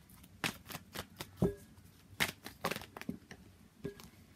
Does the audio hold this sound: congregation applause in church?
no